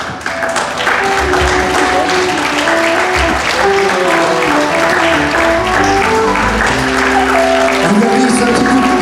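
An audience at a Breton fashion show applauds steadily and loudly as models walk, while music with sustained tones plays over the continuous clapping and some cheering.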